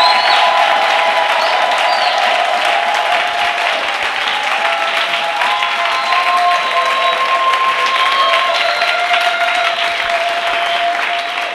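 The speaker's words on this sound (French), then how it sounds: "donnons à Jésus les meilleures acclamations maintenant" Church congregation claps and cheers loudly for Jesus, with sustained applause and joyful shouts and whistles, a thick, continuous wall of sound that holds steady throughout.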